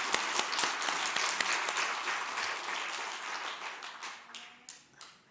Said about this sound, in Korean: 오늘 이 풍성한 은혜를 감사하면서 같이 감사의 박수 올려드릴까요?